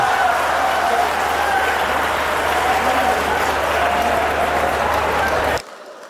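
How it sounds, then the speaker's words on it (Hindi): An audience claps loudly at a Hindi comedy poetry show, a dense, sustained burst of crowd applause that cuts off abruptly near the end. "एक बार जोरदार तालियां बजाओ"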